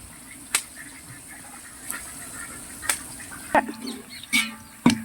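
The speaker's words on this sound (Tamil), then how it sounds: "வாத்து பாருங்க ஃப்ரெண்ட்ஸ் நிறைய வாத்து இருந்துச்சு" A few short duck quacks scattered over a quiet outdoor background, one of them louder and closer near the end.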